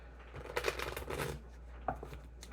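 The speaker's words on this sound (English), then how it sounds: "Do 2 more shuffles." Tarot cards are shuffled in quick, soft riffling bursts, close and fairly quiet, with one brief burst after a pause.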